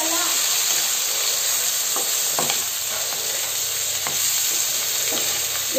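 Diced potatoes sizzle in a pan with salt and turmeric over medium heat, a loud, constant hiss of frying broken by a few short scrapes from stirring.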